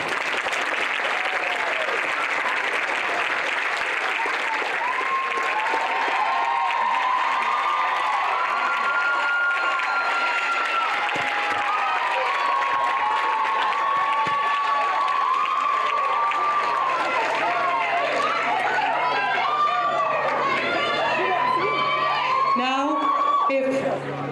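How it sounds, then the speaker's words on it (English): Sustained applause and cheering from a crowd at a nursing pinning ceremony, a loud continuous clapping wash with whoops and shouts rising over it, plus voices talking through the later part. "So please, a good round of applause for these people"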